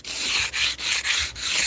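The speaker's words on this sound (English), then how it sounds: "all the sanding has to happen first" A primed surface on a historic home is sanded by hand before painting: close, steady rubbing strokes repeat in an even back-and-forth rhythm, each stroke separated by a brief pause, with no talking.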